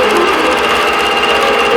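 A sewing machine stitches a row of quilting in one steady, continuous hum, loud and close, its rapid needle rhythm unbroken and with no voices over it.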